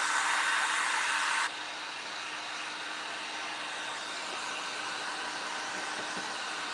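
A handheld dryer blowing on freshly made craft pieces: a steady, close whooshing roar that is louder and brighter for the first second and a half, then continues at a lower, even level.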